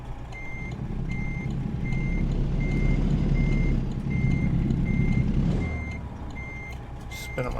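A truck in American Truck Simulator backs up, its reversing alarm beeping at a steady, regular rhythm over a loud, continuous engine rumble, then the engine note drops near the end.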